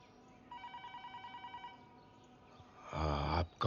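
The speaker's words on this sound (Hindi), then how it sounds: "आपका फोन" A telephone rings in a regular burst of rapid electronic trills lasting about a second, fairly quiet. A louder, muffled sound follows after a short pause.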